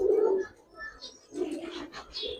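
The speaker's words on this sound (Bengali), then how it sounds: "বিগ সাইজের একটা নর কবুতর ভাই।" A large male domestic pigeon coos nearby in low throaty bursts, one at the start and more following in short rolling phrases, clear and close with no talking.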